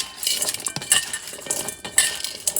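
A beef cube steak marinade with black peppercorns is stirred in a bowl, with quick clinks and scrapes of a utensil against the dish in irregular bursts, close and fairly loud.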